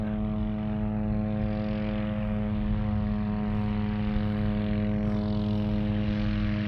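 A light propeller aircraft engine drones steadily and loudly, its pitch holding strong as it climbs, with no talk.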